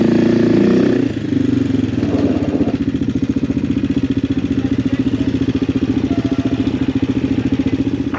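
A Suzuki DR motorcycle engine drones close and steady on a rough road in Portugal, its pulsing note under rattles and clatter from bumps.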